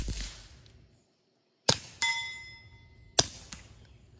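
A suppressed Keltec P17 pistol fires Aguila subsonic 40 grain solid point rounds, giving three sharp, fairly quiet reports with a metallic clang and short ringing tail, spaced about a second or more apart in an otherwise quiet setting.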